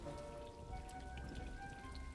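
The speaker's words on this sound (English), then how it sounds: "This is a magical rain cloud." A magical rain cloud rains over a potted plant in Hogwarts Legacy, a steady patter of raindrops on a surface, soft and continuous without talk.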